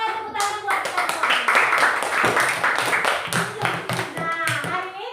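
A classroom of primary-school children claps together, a quick dense patter of small hands that stays close and lively throughout, with voices talking and calling out over it.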